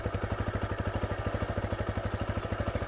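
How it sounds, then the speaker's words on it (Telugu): A TVS Raider 125cc motorcycle idles close up with a steady, rapid single-cylinder putter and an even, unchanging rhythm, heard on its own. "ఇదైతే ఐడ్లింగ్లో సౌండ్"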